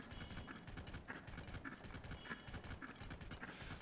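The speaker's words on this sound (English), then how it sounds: "when you're riding a creature, like a Stal horse" Stal horse hooves clip-clop in a steady rhythm while the skeletal mount is ridden in Zelda: Tears of the Kingdom, a dense run of close hoofbeats over game ambience.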